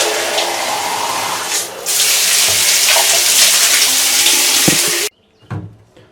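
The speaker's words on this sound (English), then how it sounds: "get my cup and just rinse it out" Water gushes steadily from a tap to rinse out a cup, a loud close hiss that changes pitch as the flow strikes the cup, then cuts off abruptly, leaving a few drips and clinks.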